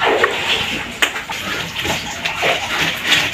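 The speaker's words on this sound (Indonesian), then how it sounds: "Ini sedang merebus bubur kedelai." Soybean pulp boiling for tofu production, a steady wash of bubbling and churning liquid with occasional louder splashes and surges, fairly close and continuous throughout.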